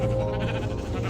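A single sheep bleats in a blocky survival video game, close and clear, one wavering cry lasting about a second with no talk over it.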